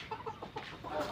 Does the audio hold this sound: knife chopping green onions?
no